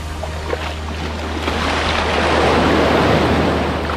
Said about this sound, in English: I'm at the Gemelot beach at the moment